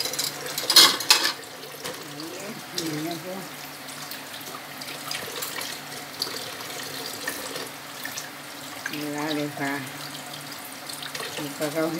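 Water from a kitchen sink tap runs intermittently while dishes are washed, with clinks and splashes near the start, someone talking over it throughout.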